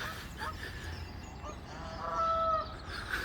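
Geese honking at a duck pond outdoors on a clear day, a few faint honks rising over steady open-air background noise at a distance.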